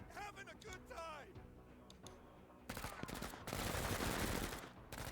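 SMG gunfire in an action video game, heard as a dense rattling burst of rapid automatic shots that swells loud in the second half, following a stretch where a voice is talking.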